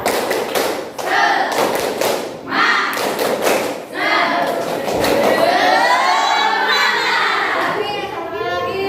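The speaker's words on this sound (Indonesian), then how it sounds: "Tepuk semangat." Schoolchildren in a classroom perform a rhythmic spirit clap, sharp clap bursts in quick patterned groups mixed with loud chanting and shouting voices, close and energetic.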